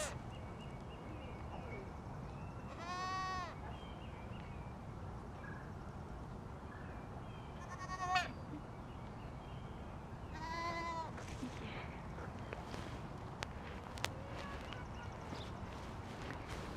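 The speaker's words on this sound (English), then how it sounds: "We're going to go back to our goats." Goats bleat three times at a handling and fitting show on Rutgers Day 2021, each call wavering and moderately distant over steady outdoor background noise.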